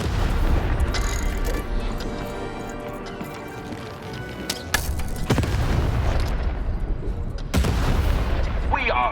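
Cannon fire in a video game: heavy booming blasts over dense, continuous game noise, with sharp loud bursts recurring, and possible voices underneath.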